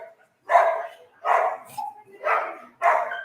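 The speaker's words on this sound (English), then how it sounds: "Please, the dogs." Dogs in a neighborhood bark in four loud, spaced barks close by, with no talking.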